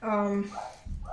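A dog gives a single short, high bark or yelp nearby indoors, followed at once by a person starting to speak.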